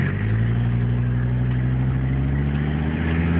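A 1984 Mercedes-Benz 300D Turbo diesel car accelerating, its engine giving a steady, loud, low drone heard from inside without any talking.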